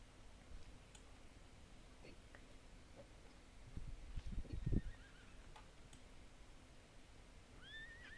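A horse in the online game Star Stable Online gives a short, faint neigh midway, a breathy whinnying burst over a quiet background hiss with light ticking and a thin electronic chirp later.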